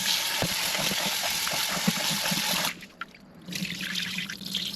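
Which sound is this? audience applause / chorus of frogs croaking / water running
water running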